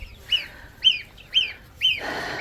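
Young Wyandotte chicks and goslings call nearby, four evenly spaced sharp peeping chirps, each brief and clear, with a rustling scuffle at the end.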